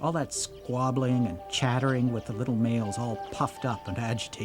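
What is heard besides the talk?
None of the usual background noises is heard.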